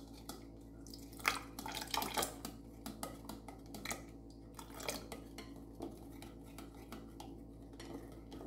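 A homemade soap thickener mixture stirred in a container, a utensil clinking and scraping against the sides in soft, irregular taps over a faint steady hum, quiet and close.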